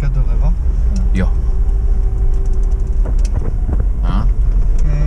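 Car driving on a road in Cyprus, its low engine and road rumble steady and close throughout, with people talking over it inside the vehicle.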